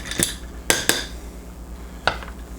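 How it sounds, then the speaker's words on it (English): Spoon clinking against a glass while stirring Tennessee-style tea in a kitchen: four sharp, bright metallic taps, two close together mid-way and one later, close and fairly quiet over a low background hum. "I'm going to stir it up just a little bit."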